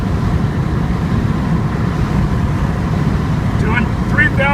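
A 1989 Ford Escort with a 3-speed automatic cruises at about 3,000 RPM and 65 mph, its engine and road noise forming a steady, loud in-cabin drone throughout, with faint brief chirps near the end.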